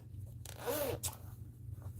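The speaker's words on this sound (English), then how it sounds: "it has a zipper pocket for your wallet" A zipper pocket on a pair of overalls is zipped in one quick close rasp, faint against a low steady hum with no talking.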